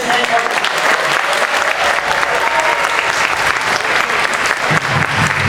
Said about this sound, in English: get one more round of applause for our beginner band, Jasmine, and